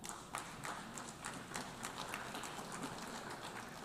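An audience applauding at a UN Security Council address, a dense, steady patter of many hands clapping at a moderate distance, continuous throughout with no speech over it.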